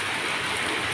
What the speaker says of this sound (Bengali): ইহাকেই বৃষ্টি বলে, ইহাকেই বৃষ্টি বলে।